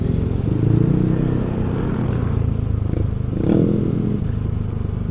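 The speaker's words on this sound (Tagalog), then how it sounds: "Medyo maingay din yung tambutso na siya" A loud aftermarket motorcycle exhaust pipe rumbling close by, a deep throaty idle with a brief rev swelling partway through.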